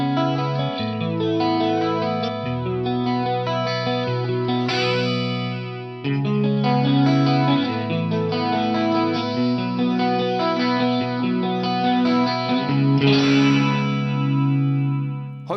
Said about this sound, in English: with those very low delay times, we got a much more almost metallic or hollow sound out of the chorus